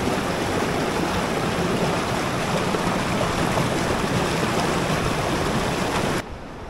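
Steady, rushing water of a river at the bottom of Copper Canyon, Mexico, flows continuously and loudly, a constant broad wash of sound with no voices, cutting off abruptly near the end.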